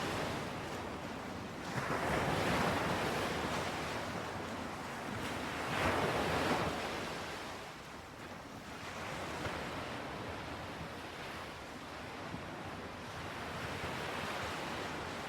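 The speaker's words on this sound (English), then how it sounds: "The sounds of the ocean, though still audible, are softened, muffled by the sturdy walls" Ocean waves breaking on a seaside shore, broad rushing surges that swell and fade in slow cycles, with wind noise on the microphone and no voices.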